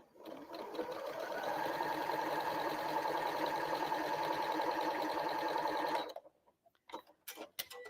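A sewing machine stitches down lines on a quilt piece, running in a fast, even, close-up rattle for about six seconds before stopping, followed by a few faint handling clicks.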